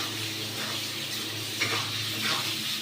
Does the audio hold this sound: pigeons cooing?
no